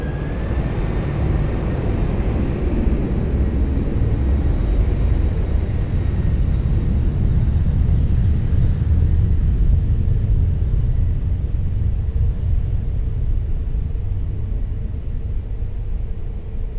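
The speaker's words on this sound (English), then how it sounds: "Ryanair 51 Delta Romeo, wind variable 10 knots, runway 20, cleared for takeoff" A Ryanair airliner thunders down runway 20 at Lisbon Airport on takeoff, a loud, sustained engine roar and deep rumble that stays strong and slowly eases toward the end.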